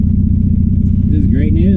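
A Triumph Spitfire engine idles at a gas station with a steady, loud, low rumble. A voice starts speaking over it near the end.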